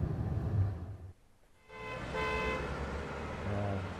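A car horn sound effect from PowerPoint: traffic noise with repeated honking horns, loud and continuous, broken by a brief drop to quiet before the honking resumes.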